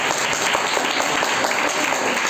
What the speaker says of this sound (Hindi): तालियों के साथ जोर से।